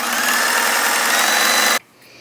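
A sewing machine runs a stretch stitch at width 3 along the armhole of a T-shirt, producing a loud, steady, even whir that continues for almost two seconds and then stops abruptly, leaving near silence.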